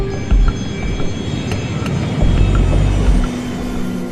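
A Legacy business jet in flight bound for Manaus in northern Brazil, heard as a loud, steady cabin roar of engine and airflow with slight surges and faint tonal hum, no voices.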